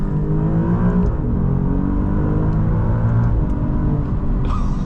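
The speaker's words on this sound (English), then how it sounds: "Let's turn right here and accelerate a little bit." An Alfa Romeo Giulia QV with a ZF eight-speed gearbox accelerates hard from a right turn, its engine note rising in steady harmonic sweeps with a brief gear-change dip, loud and close from inside the cabin.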